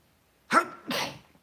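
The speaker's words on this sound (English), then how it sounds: "I got a sneeze coming" A single person sneezes close up, a sharp intake followed by a loud burst and a second trailing exhalation, alone with no talking.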